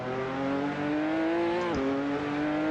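Car exhaust note in a racing simulator game, heard from behind, a steady droning engine tone with a brief dip and recovery mid-clip, loud and alone.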